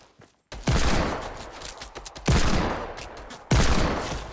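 Fortnite gunfire: three loud, close bursts of shots, each striking hard and then trailing off with a long echo, spaced roughly a second or more apart, with no talk.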